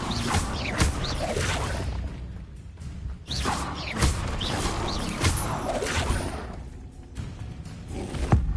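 Spell-casting effects from the Hogwarts Legacy video game, including the Incendio fire spell, in a busy run of thuds, whooshes and crackling bursts with no talking.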